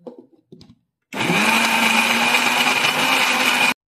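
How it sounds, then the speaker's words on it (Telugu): A mixer grinder grinding coriander seeds and spices starts up after a few brief clatters and runs loud and steady with a high whine for a couple of seconds, then cuts off abruptly. "ఇదిగోండి, మిక్సీ వేసాను"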